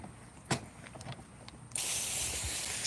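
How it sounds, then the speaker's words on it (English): A few short mechanical clicks from a garden sprayer, then a sudden steady hiss of spray onto garden plants starts and continues to the end, fairly close. "Quick little spray."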